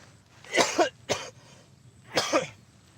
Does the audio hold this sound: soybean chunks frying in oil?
no